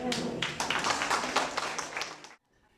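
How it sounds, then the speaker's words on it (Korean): Audience applauds a six-year-old's presentation at a Korea-Germany friendship event, a burst of brisk clapping that holds for a couple of seconds and then cuts off abruptly. "6살 최연소 참가자의 발표에는 박수가 절로 나옵니다"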